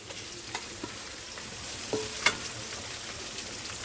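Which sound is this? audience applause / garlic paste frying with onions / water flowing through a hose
garlic paste frying with onions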